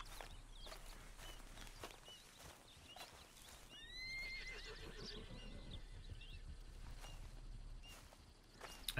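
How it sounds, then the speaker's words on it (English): A horse in Red Dead Redemption 2 lets out a clear whinny midway, surrounded by steady clip-clop of hooves and footsteps, fairly quiet and without speech. "I forgot how to get the attention of the horse."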